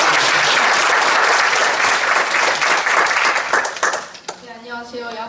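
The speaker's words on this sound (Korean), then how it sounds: "큰 박수로 주세요" An audience at a presentation on women and baseball gives loud, sustained applause that thins out near the end, when a voice begins speaking.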